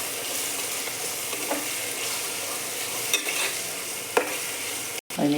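Garlic and ginger paste sautés with onions in a pan for chicken curry, a steady close sizzle broken by a few spoon scrapes and clicks while stirring, with no talking.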